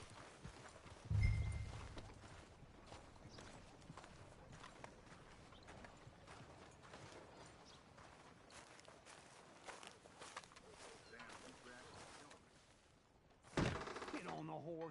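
Horse hooves clip-clop at a steady walking pace in the Red Dead Redemption video game, a continuous rhythmic clatter with a heavy thunk near the start and another jolt near the end.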